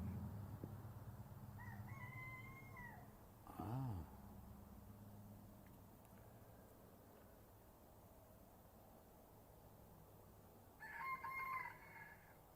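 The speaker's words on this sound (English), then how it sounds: "the rooster next door." A rooster next door crows twice, once early and again near the end, each call distant and fairly faint over a steady low outdoor hum.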